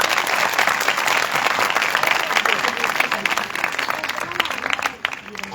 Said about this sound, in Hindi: आए उसके लिए भरपूर तालियां बजाएं।